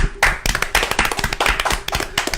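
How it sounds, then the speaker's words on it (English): A small group clapping, with quick irregular hand claps filling a couple of seconds, close and lively, in a studio. "Clap it up."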